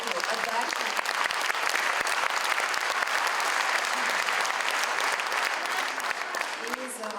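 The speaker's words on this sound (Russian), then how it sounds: "Ваши аплодисменты." An audience of spectators applauds at the close of a performance, with dense, steady clapping filling the hall at a constant, loud level, and a voice faintly audible beneath it.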